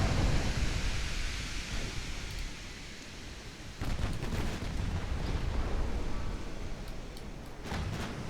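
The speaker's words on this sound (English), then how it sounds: "Six-inch gun's definitely doing work." Broadside from six-inch naval guns in a naval warfare video game: dense, roaring booms sustained throughout, with a brief dip midway before another heavy volley rolls back in, loud and rumbling.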